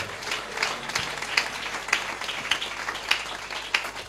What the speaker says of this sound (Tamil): கைத்தட்டி நம்முடைய தேவனை துதிப்போமா?